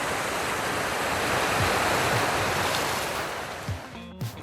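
A mountain stream on a mossy Smoky Mountains hillside rushes past rocks, a dense steady watery roar close to the microphone, easing slightly near the end with a few soft bumps.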